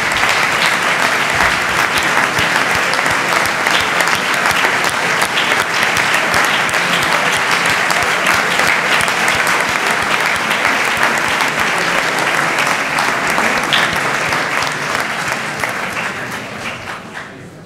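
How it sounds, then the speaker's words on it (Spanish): Sustained, loud applause from a large audience at an academic diploma ceremony of a university engineering school, steady dense clapping throughout before tapering off near the end. "bien se han ganado un aplauso vuestro"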